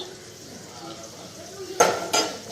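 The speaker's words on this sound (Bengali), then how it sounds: "এই যে দেখো মাছ বাইরা নিচ্ছি" Cooked fish being served into dishes, with two sharp close clinks of a utensil against a pot or plate after a quiet stretch with faint voices in the background.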